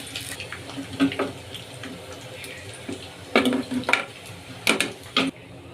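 Fried chicken pieces lifted from hot oil onto a plate, with irregular clinks and scrapes of utensil on pan and plate over a soft background sizzle, some noises louder and clustered toward the end.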